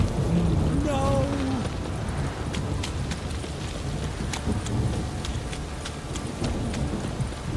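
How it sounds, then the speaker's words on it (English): Steady heavy rain hiss fills the scene in The Witcher 3, with scattered crackling transients and a brief rising horse or voice-like tone near the start; no clear thunder rumble stands out. "This downpour's a bastard, it is."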